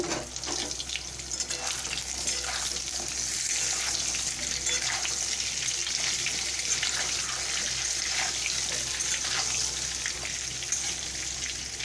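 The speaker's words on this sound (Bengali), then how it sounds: "এবারে একে একে পটলগুলো দিয়ে দিচ্ছি পটলগুলো সুন্দর করে ভেজে নেব" Pieces of pointed gourd fry in hot oil in a pan, producing a continuous, fairly quiet hissing sizzle with light crackle, steady throughout and with no voices.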